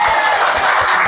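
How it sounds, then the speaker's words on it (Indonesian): Students in a ninth-grade social studies classroom clap together, a short, loud burst of close applause. "Tepuk tangan untuk kita semua."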